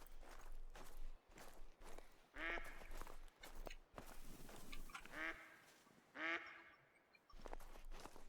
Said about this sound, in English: Okay, that's quacks. That's not a bark. I guess we have geese or ducks in the area.